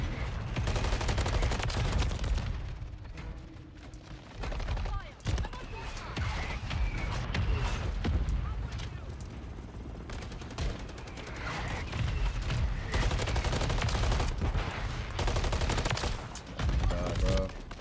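Shotgun blasts in a Modern Warfare III multiplayer match ring out repeatedly and loudly over constant game action, with a player talking throughout over the shooting.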